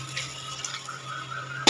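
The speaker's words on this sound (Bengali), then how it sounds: "মিক্সি বাটি ধোয়া জলটা তো দিয়ে দিলাম" Water is poured into a cooking pot of fish curry (with fennel paste and potatoes) from the jar used to wash the mixer, a soft, faint, steady trickle with no talking.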